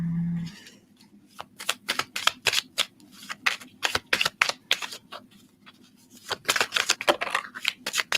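Tarot cards being shuffled by hand, a run of quick crisp riffling bursts and soft rubbing, fairly close and clear, with a short pause early on and denser flurries near the end.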